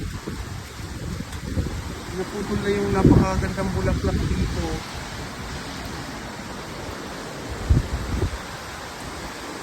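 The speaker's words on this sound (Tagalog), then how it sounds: "Kunti ang ulan pero malakas naman yung hangin" Steady roaring wind noise buffets the microphone throughout during a storm with flooding in Lucena City, with a person speaking over it and a couple of louder gusts.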